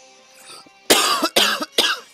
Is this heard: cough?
yes